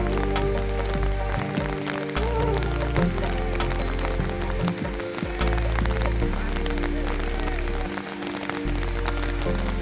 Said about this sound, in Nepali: पानी पर्दै रोकिँदै गर्दैछ।